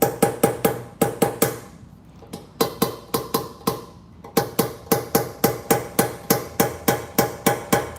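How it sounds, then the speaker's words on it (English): A Snap-on leather-faced body hammer taps a metal body panel in quick, rhythmic bursts of sharp, close knocks, with brief pauses between runs. "It's a snap-on body hammer."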